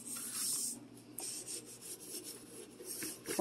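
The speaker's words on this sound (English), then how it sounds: "Wipe down your stainless." Cloth wiping and rubbing across stainless steel kitchen appliance surfaces, a soft continuous rasping swish in repeated strokes, close and moderately quiet with no talking.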